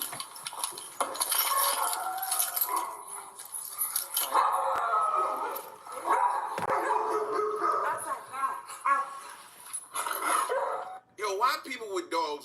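Dogs bark and whimper indoors in a home, short yips and barks scattered among clattering dishes and cutlery, with people talking over much of it.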